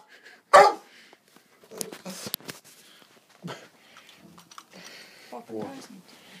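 A dog gives one sharp, close bark early on, followed by a few fainter yips, while children and an adult talk around it indoors.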